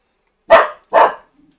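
Two sharp, loud dog barks close by, about half a second apart, followed by quiet.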